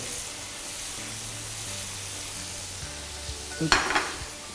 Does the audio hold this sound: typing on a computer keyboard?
no